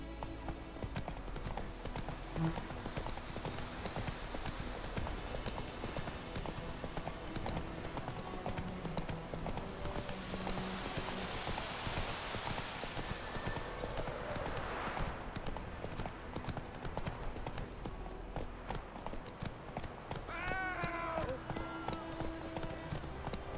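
Horse hooves clip-clop in a steady galloping rhythm while riding in The Witcher 3 video game, close and continuous, with a brief neigh near the end and game music or ambience underneath.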